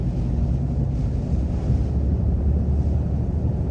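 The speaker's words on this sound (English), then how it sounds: "I've got the wind at my back." Steady, roaring wind from Category 3 Hurricane Milton buffets a truck driving at about 40 miles an hour, a dense, unbroken rush of air throughout.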